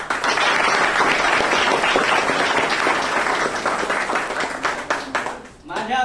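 Applause from an audience at a school gathering in Shevgaon fills the clip with dense, steady clapping at close range. It thins into a few scattered claps near the end.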